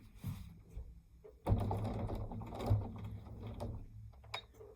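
A domestic sewing machine runs briefly while back stitching a quilt, a short mechanical whir with rapid clatter of the needle, close and fairly quiet, preceded by small handling noises.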